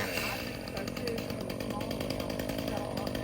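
A chainsaw runs continuously at close range, its engine droning steadily and loudly throughout as it cuts up a storm-damaged tree.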